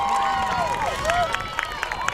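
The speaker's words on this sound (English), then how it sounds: "And the crowd comes alive" Spectators at a high school softball game cheer and call out after a hit into right field, a steady babble of crowd voices with whistle-like shouts and scattered claps at moderate distance.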